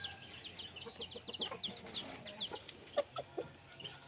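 A gamefowl rooster in a scratching box gives soft, repeated clucks and faint chirpy calls, while light scratching and rustling run quietly underneath, close but low in level.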